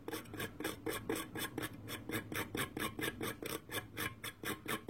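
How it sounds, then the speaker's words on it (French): A vape RDA coil, the Pirate King dripper by Riscle Technology, being scraped at its hot spots: a steady rhythmic rasping, about three strokes per second, close and moderately loud, with no talk. "On va aller tranquillement, on va gratter ça."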